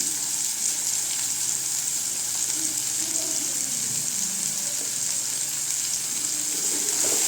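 Mango and garlic sauté in a pan for pickle, giving a steady, close frying sizzle that holds evenly throughout with faint stirring beneath and no talk.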